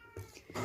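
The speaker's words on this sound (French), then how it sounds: "arrête de miauler mon chat." A house cat meows close by indoors, a few short quiet mews in quick succession during paper crafting.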